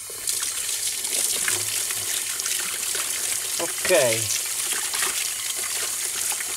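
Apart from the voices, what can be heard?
water running from a tap while washing hands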